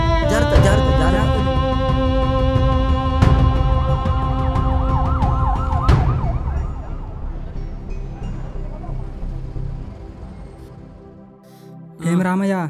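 An ambulance siren wails loudly for several seconds at the scene of a fall, with its pitch sweeping up and down, then fades. A short burst of other sound closes the clip.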